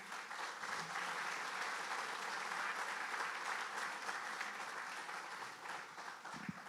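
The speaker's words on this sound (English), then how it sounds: "I have never gotten that amount of applause before" Sustained audience applause fills a hall at a state golf association hall of fame event, steady and dense throughout with no break.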